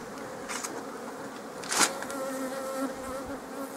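Honey bees buzz around a hive frame during an inspection, a continuous close drone with a few wings passing nearer the ear and a short louder rustle midway.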